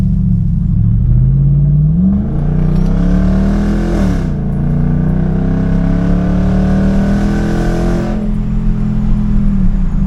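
An inoperable auction truck's engine runs steadily and loud, with the pitch rising and falling across two distinct revs, then settling back to a rumbling idle, with no voices.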